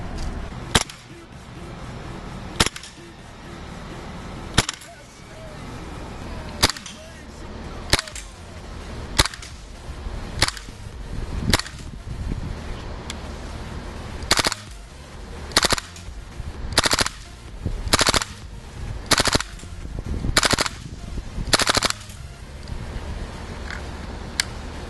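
A GHK 105 airsoft gas blowback AK rifle fires at an outdoor range, sharp loud single cracks spaced irregularly at first, then coming in quicker succession over a faint background hum.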